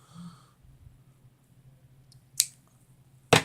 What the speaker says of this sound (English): We're simply just going to cut it in half